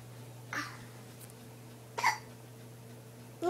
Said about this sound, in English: You got the hiccups?